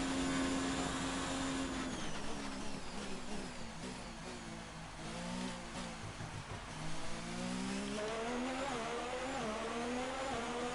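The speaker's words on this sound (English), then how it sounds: "Car sounds so weird." Formula 1 race car engine in the F1 2019 game at the Italian Grand Prix, a continuous loud revving whine with rising and falling pitch sweeps through gear changes, steady throughout with no voices.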